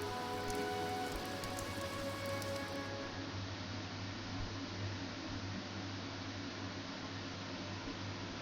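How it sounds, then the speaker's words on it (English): Steady rain falls in the video game Fire Emblem Three Houses, a constant even hiss of drops with a low hum underneath, no talk. "This rain threatens a coming storm."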